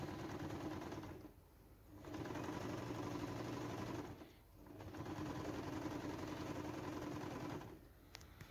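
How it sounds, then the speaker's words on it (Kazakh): A sewing machine stitches a patterned seam on an ethnic takiya cap, running in three steady, even whirring stretches separated by brief pauses, close and alone. "Оюлы тігіспен жақсылап әдемі қылып тігіп аламыз."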